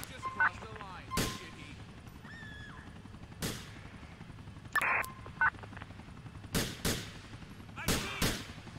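Gunfire from a big police shootout in the video game LCPDFR: several sharp, loud shots spaced irregularly over a steady background hum, with a few faint tonal radio-like bleeps between them.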